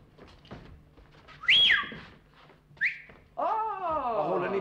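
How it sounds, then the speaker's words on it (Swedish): A person whistles a few short, bright notes that sweep up and down in pitch. They come in brief separate bursts among quieter background sounds, with a voice-like sound near the end. "att jag visslar över 6 gånger"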